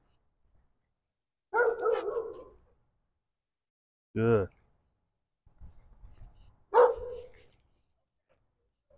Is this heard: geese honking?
no